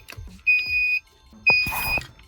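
A 2001 Mercedes SLK 170 with a start error and no crank gives two steady, piercing electronic beeps, each about half a second long, separated by a short pause, with faint low rumble between them.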